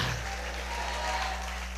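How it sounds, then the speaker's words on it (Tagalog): A church congregation applauds at a morning worship service: dense, steady clapping throughout the short stretch, loud and close, with a low hum beneath. "Palakpakan natin si Lord ngayong umaga. Sige po, yung pinakamalakas na palakpak."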